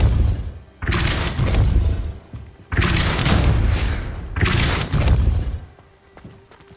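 Three heavy booming spell impacts from the Hogwarts Legacy video game, each a loud low thud with a noisy rushing tail lasting over a second, evenly spaced and alone without talk.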